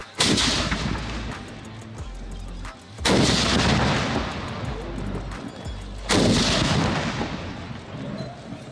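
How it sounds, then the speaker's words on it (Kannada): Ceremonial cannons fire during a 21-gun salute rehearsal for Mysuru Dasara: three loud, booming blasts about three seconds apart, each leaving a long, rolling rumble that fades before the next shot. "ಇಪ್ಪತ್ತೊಂದು ಗನ್ ಶಾಟನ್ನು ನಾವು ಮೂರು ಅಥವಾ ನಾಲ್ಕು ಸಲ ರಿಹರ್ಸಲನ್ನು ಮಾಡ್ತೀವಿ"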